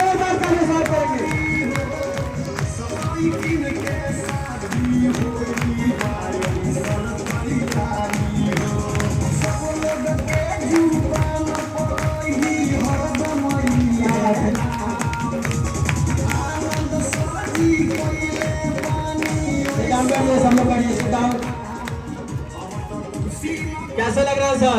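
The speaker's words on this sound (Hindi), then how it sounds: "पूरे जोरदार ताली स्वागत करेंगे दोस्तों" A crowd welcoming a guest with loud, continuous applause and cheering that runs steadily throughout, with voices mixed into the clapping.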